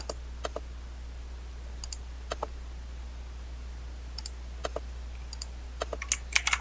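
Keyboard shortcuts typed while modeling in 3DS Max 2017: sparse, crisp key clicks in small clusters of one to three, close and clear over a steady low hum, with no talking.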